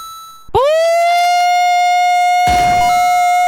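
A loud, steady air raid siren wail that rises quickly to a sustained tone and holds, with a brief noisy burst near the end.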